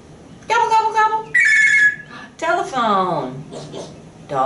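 A parrot mimics a telephone ring in several short bursts of warbling, ringing tones separated by brief pauses.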